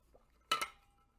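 A water bottle handled close by gives a short double clunk with a plasticky clatter, two quick knocks about a tenth of a second apart, then quiet.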